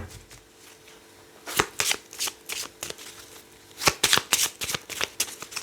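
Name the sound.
shuffling a deck of 32 playing cards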